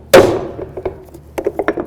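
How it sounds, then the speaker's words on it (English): One sharp, ringing metallic strike from a small hammer on a metal punch, followed by a few lighter taps and clinks close by, while replacing a window regulator on a 2008-2012 Jeep Liberty. "I'm going to take a punch and a small hammer, and I'm going to give it a loving bonk."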